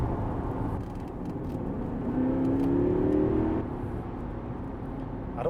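A Porsche Panamera 4S with a 4.0-litre bi-turbo V8 accelerates hard from inside the cabin, a steady engine drone swelling into a rising whine mid-clip and easing back, with no talk.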